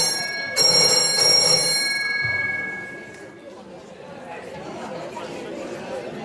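A telephone bell rings loudly twice in quick succession during a Spanish radio show call, then fades as a lively crowd chatters and voices talk in the background.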